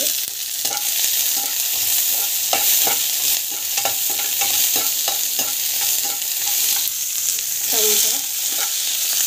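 Garlic and onion frying in a pan, continuous close sizzle broken by repeated scraping stirs of a utensil, with a brief clink near the end.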